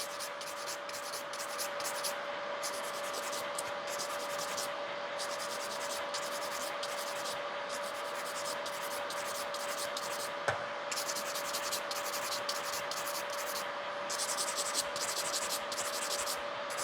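A nail file scrapes back and forth along the sides of gel nail extensions during a refill, with quiet, close, rhythmic rasping strokes and one brief tap partway through, no voices.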